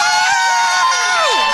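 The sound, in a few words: studio audience applauding and cheering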